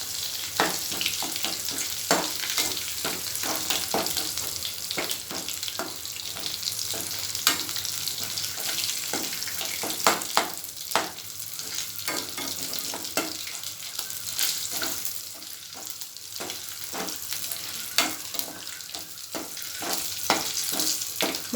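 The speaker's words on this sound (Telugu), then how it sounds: "పోపు దినుసులు కాలనీయండి" Tempering spices and curry leaves fry in hot oil for tomato pickle, giving a loud, steady sizzle with frequent crackling pops and the scrape of stirring throughout, with no talking.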